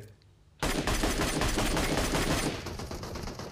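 An MK12 rifle fires in a video game, bursting in suddenly after a quiet moment and continuing as loud, rapid, sustained gunfire for several seconds.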